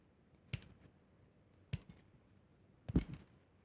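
Small baby scissors snip intricate cuts while making an edible fish tank, three crisp, separate clicks spaced over a few seconds in a quiet room.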